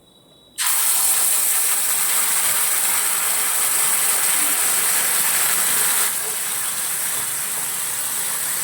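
Banana peel paste hits hot mustard oil tempered with nigella seeds and garlic, erupting into a sudden loud, steady sizzle that continues with a slight drop partway through.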